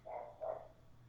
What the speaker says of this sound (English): there were dogs outside